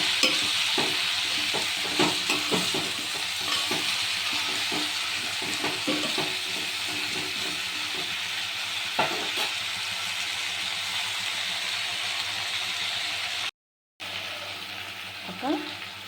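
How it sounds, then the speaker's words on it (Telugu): Tomatoes frying in a pan: a steady, fairly loud sizzle with repeated scraping stirs in the first half, then a continuous hiss that cuts out for a moment and returns. "టమోటాలు వేసుకోవాలి."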